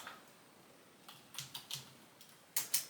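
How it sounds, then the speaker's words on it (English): Typing on a computer keyboard, a handful of quiet close clicks, sparse at first and then a quick run of distinct keystrokes near the end, no talking. "Let's see if I can type in Himalayan."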